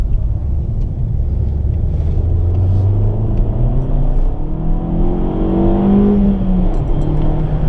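An Alfa Romeo MiTo QV, 170 hp, drives along with its engine droning loudly and continuously, the pitch rising steadily as it accelerates through the gears with road rumble underneath.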